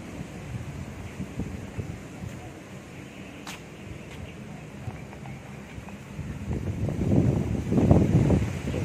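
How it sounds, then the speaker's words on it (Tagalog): Wind blows steadily across an open hillside at a religious park with Stations of the Cross in Balete, Batangas, buffeting the microphone in a low rumble that builds and gusts louder toward the end. "Sarap na simoy ng hangin."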